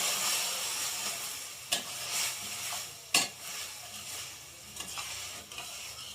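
Ridge gourd bharta being stirred in a pan, a steady soft sizzle with a few louder scrapes and knocks of the spoon against the pan, close and alone without talk.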